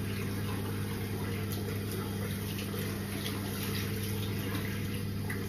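Hot water runs steadily from a tap while someone washes their face. It makes a continuous, even hiss and splash for several seconds, alone and without speech.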